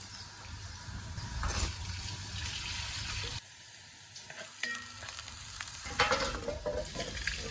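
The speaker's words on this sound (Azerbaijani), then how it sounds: "Doğradığım 1 ədəd böyük ölçüdə soğanı biraz yağda qovuracağım" Chopped onion frying in oil gives off a steady sizzle, broken by a brief quieter pause and a few clinks of stirring.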